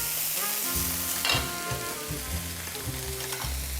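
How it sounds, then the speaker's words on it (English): Garlic sizzling in hot oil as a spoon stirs it through, a continuous close frying hiss with soft scraping knocks and small bursts, no voices over it. "So the garlic goes in, and now you're going to stir this through."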